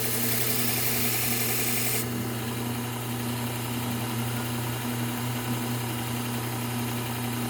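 Steak knives ground on a Trizact A30 abrasive belt, a steady loud grinder drone with a strong low hum and a hissing abrasive rasp that drops in brightness after the first two seconds.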